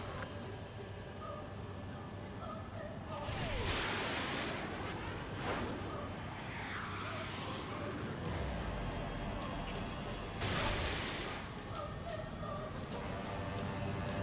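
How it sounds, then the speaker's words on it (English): Fighter jet missiles launching in the Ace Combat 7 video game, heard as a few whooshing bursts over a steady roar of jet engine noise, with faint radio chatter in the background. "Smash those missiles right into the ground."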